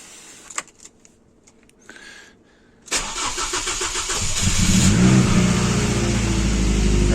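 Cold car engine cranking after a few faint clicks, then catching and settling into a loud, steady running roar that builds over several seconds, close by, with no talking.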